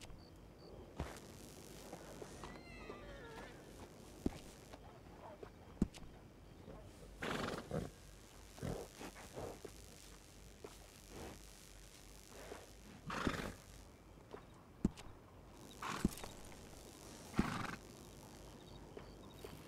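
A horse in the video game Red Dead Redemption 2 whinnies and snorts several times in short bursts over steady background ambience, with faint hoof clops in between.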